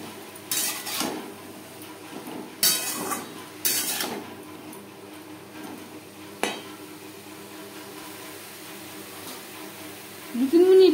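Long beans stirred in a pan on a gas stove with turmeric and salt for a vegetarian Bengali curry: a few sharp metal spatula scrapes and clinks against the pan over a quiet background.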